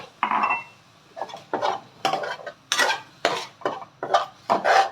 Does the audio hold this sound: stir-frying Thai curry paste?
yes